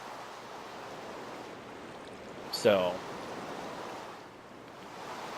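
Steady rushing of flowing water in the Minecraft video game, a continuous even wash with a single short spoken word and a brief bump partway through.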